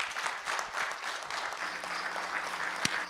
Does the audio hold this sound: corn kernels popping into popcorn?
no